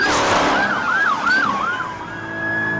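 A police car siren wails up close and loud, its pitch rising and falling in a rapid repeating sweep for a few seconds with no voices.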